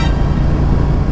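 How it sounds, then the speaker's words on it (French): A Ferrari sports car passes on a street with a loud, close engine drone and road noise, very brief. "It's a Ferrari."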